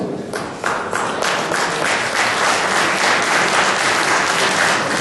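Loud, steady applause from delegates at a large professional congress, a thick continuous wash of many hands clapping that holds at full strength throughout.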